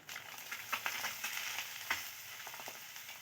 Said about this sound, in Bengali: এবারে সেদ্ধ করে রাখা আলু আর মটরশুঁটিগুলো দিয়ে দেব।